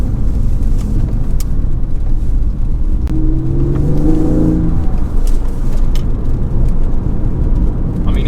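A Porsche 996 C4S rumbles along wet, icy roads, its engine rising in pitch as it accelerates midway, heard from inside the car over steady road and wind noise.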